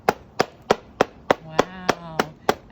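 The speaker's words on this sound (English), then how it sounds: "then you'll start with the hammer again" Steady hammer blows pounding a yellow dandelion flower flat, about ten sharp evenly spaced knocks close by, with a brief faint hum beneath the later strikes.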